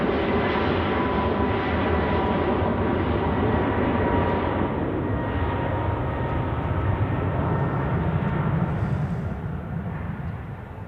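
Pegasus Airbus A321neo jet at Zurich Airport in winter, a loud, steady engine roar that holds for the whole stretch, broad and rumbling, easing slightly toward the end.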